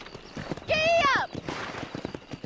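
A horse in Red Dead Redemption neighs loudly and close, a rising whinny with hooves clip-clopping under it, and a voice calling out over the sound.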